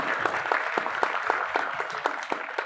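Brahmacharis of a gurukul clapping in unison at a gathering, a steady rhythmic beat of sharp, loud, close claps at an even pace throughout, with no talk over it.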